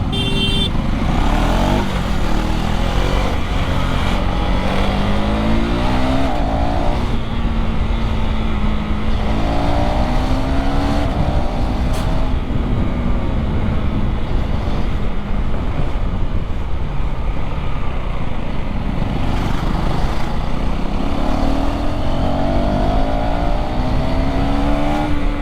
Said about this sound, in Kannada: ಸೌಂಡ್ ಹೆವಿ ಬರುತ್ತಪ್ಪ ಗಾಡಿದು.